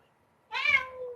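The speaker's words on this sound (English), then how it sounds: "they left this cat in my room" A cat meows once indoors in a room, a single drawn-out, close and fairly loud cry rising out of silence.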